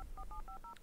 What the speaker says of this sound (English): Make the phone calls.